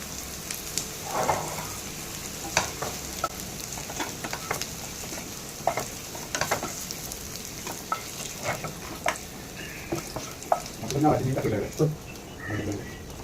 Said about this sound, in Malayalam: നമുക്കിതെല്ലാം വറുത്ത് എടുക്കണം.